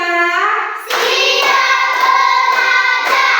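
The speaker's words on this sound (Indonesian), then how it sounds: "Tepuk 5." Schoolchildren in a classroom clap in unison to a counted rhythm, about five crisp, evenly spaced claps following a short sustained tone, fairly loud and close.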